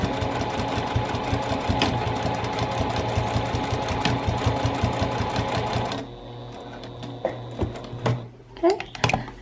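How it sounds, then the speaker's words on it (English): A sewing machine runs steady rapid stitching back and forth on a canvas tote bag for about six seconds, then stops, leaving a quieter room with small clicks and handling sounds. "I'm going to just run a couple stitches back and forth that way."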